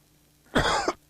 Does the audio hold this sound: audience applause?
no